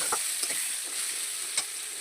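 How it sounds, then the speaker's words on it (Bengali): Steady sizzling of potatoes frying in oil, with a few soft scrapes of stirring; no voices. "এবার আলুটাকে আমি সুন্দর করে লাল লাল করে ভাজি করবো"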